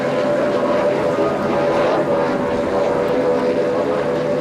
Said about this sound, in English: This is an outboard powered V-bottom, one of the older boats in the fleet.